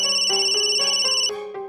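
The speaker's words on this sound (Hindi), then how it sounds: "फोन तो उठा लो, कब से बज रहा है?" A phone's electronic ringtone plays a bright, repeating melodic pattern of stepped tones, loud and close, fading as it cuts off near the end.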